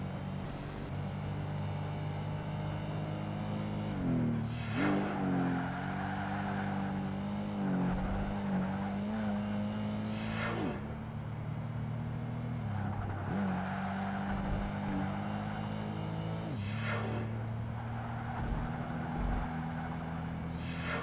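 A sports coupe racing in Project Gotham Racing 2, its engine note climbing and dropping through repeated gear shifts and lifts for corners, loud and continuous throughout with no talk.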